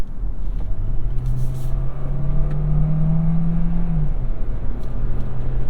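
A 2022 Hyundai Tucson with a 226-horsepower engine accelerates on the road, its steady engine drone rising in pitch, then dropping back with a gear change over constant road rumble.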